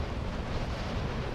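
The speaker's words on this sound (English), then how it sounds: "Very windy again." Steady, rushing wind blows continuously with a broad, low roar and no other sounds, in the video game Dark Souls 3.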